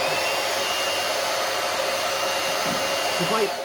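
A hair dryer blows steadily on the lace base of a hair replacement system, a loud, close, continuous whoosh that holds an even level throughout with no talking.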